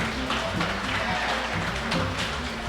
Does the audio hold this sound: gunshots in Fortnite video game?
no